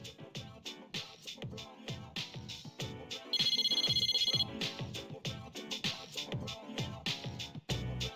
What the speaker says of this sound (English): You received an oncoming call on a phone.